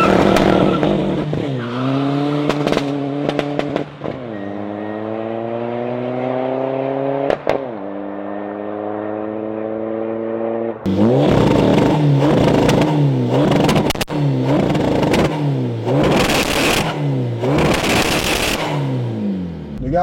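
A Volkswagen Golf GTD Mk6 with a manual gearbox revs hard and accelerates through rising, falling engine notes. Loud, close bursts of popping and crackling from the exhaust follow.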